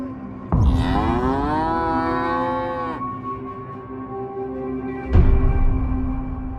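Tethered cattle in a village, three cows, two black and one white, along with a bull, let out a long, deep, loud moo lasting a few seconds, then another begins after a short gap, nearby and without talking.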